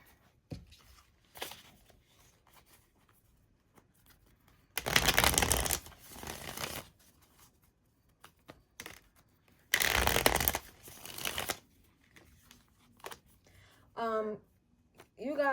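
A deck of tarot cards is shuffled by hand in two long, loud riffling bursts of several seconds each, with softer card handling between them and a voice speaking briefly near the end.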